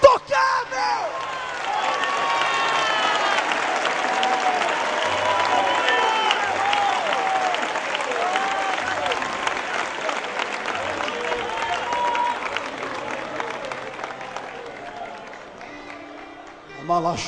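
A church congregation applauds and cheers for Jesus, a loud, sustained wall of clapping with whoops and crowd voices that swells and then fades out after about fifteen seconds.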